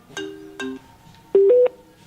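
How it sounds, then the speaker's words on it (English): A telephone on a live show rings in two distinct electronic bursts, followed by a louder, sustained pair of tones rising in pitch; moderately close and alone, without talk. "Oh, we have a phone call."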